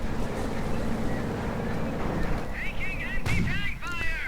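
Anti-tank fire in a WWII strategy video game, heavy booming shots and battle noise rolling continuously with rumbling blasts, loud and dense throughout, with a sharp burst near the end.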